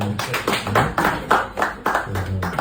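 Rhythmic hand claps, roughly one every half second, from people at a gathering at a military defence headquarters, close and fairly loud with a low hum of voices underneath.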